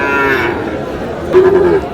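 Sahiwal cattle moo in a drawn-out, low bellow at a livestock market in Dhaka, followed by a second shorter call, with faint crowd chatter in the background.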